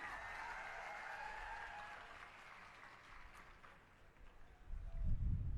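A crowd at a large political rally in Bhavnagar, Gujarat applauds in a steady, broad wash of clapping that fades after a few seconds, before low-frequency rumble and wind noise rise at the end.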